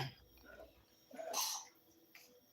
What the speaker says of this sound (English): I heard that you shouldn't clear your throat